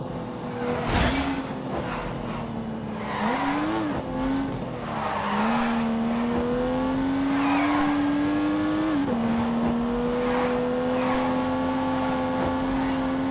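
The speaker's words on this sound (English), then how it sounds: "They got back onto the isn't and unleashed 365 rampaging horsepowers from the turbocharged 3-litre straight six." In The Grand Tour video game, a car with a turbocharged 3-litre straight-six engine drones under load, its pitch climbing and dropping through gear changes while tyres squeal and skid in bursts.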